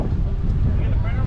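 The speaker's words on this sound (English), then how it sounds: "It's a windy day though." Wind blowing on a windy day outdoors at a campground with teardrop trailer rentals in Georgia, a constant low rumbling buffet across the microphone that never lets up.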